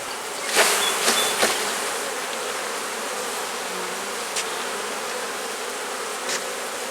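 Honeybees buzz steadily around an opened hive during a queen-finding inspection, a dense continuous drone with a few louder passes of bees flying close by.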